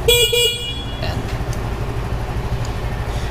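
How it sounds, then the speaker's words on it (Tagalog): The horn of a 2022 Benelli Panarea 125 scooter sounds in two short loud toots at the start, followed by a continuing low idling engine hum. "Busina, try natin"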